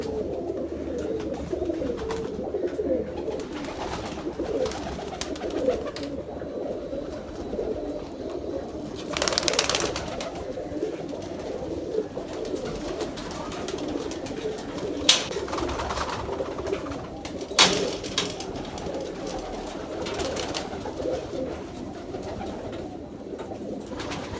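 Domestic pigeons coo softly and repeatedly, close by, with a few sharper knocks and flutters scattered through the low, steady calls.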